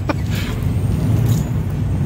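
A loaded log truck pulls away down the road, its heavy diesel engine rumbling steadily at close range, with a brief air-brake hiss at the start.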